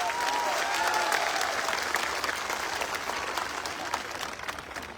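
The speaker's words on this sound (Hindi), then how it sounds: "सबसे पहले एक जोरदार तालियां आज आप अपने लिए बजाओ।" A large audience bursts into loud, dense applause that fills the whole stretch and slowly eases off, with a faint murmur of the crowd underneath.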